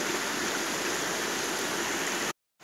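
A tall waterfall, roughly fifteen meters high, pours down a rock wall beside a forest trail, giving a loud, steady broadband rush that continues without a break and then cuts off abruptly.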